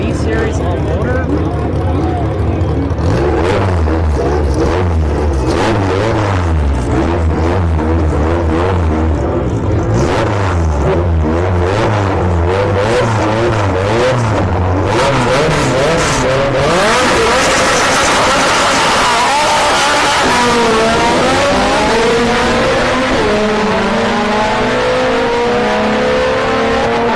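A drag race car with a naturally aspirated B-series engine accelerating hard at a no-prep drag racing event at Orlando Speed World, its loud engine tone climbing through the gears, with a voice talking over the roar.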